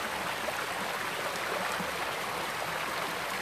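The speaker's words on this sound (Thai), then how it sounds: "มาชมน้ำตกนี่มาชมน้ำตกวัดอารามไหล" Steady wash of the waterfall at Wat Aram temple, a constant soft rushing of flowing water heard alone at moderate distance with no voices.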